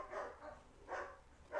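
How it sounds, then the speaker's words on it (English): Several dogs fight and bark somewhere in the house, three muffled bursts of barking spaced evenly, faint and distant. "Oh my gosh, I think the dogs are fighting."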